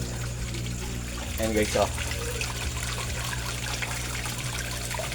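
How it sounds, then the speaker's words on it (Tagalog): An 18-watt air pump running in a koi fish pond gives a constant bubbling, trickling water sound close by, while a person speaks briefly over it. "I-on natin yung air pump guys, ha."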